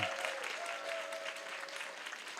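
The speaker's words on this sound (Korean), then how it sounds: "박수로 크게 격려해 주십시오" Members of a church congregation at a Friday prayer service applaud, a soft but continuous wash of clapping heard at a distance, tapering slightly toward the end, with a faint sustained tone underneath.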